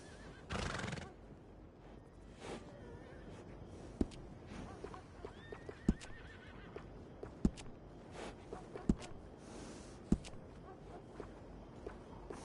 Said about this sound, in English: This horse is one of the finest you can get.